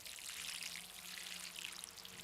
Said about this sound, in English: Give that a little drink of rainwater that I've collected in my rain barrel system.